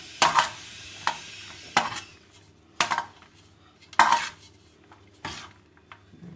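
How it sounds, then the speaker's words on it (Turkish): A spoon stirs kısır, a bulgur salad, in a dish, giving repeated sharp scrapes and clinks against the plate at irregular intervals of about a second, with quiet rustling between them. "Şöyle güzelce karıştırayım."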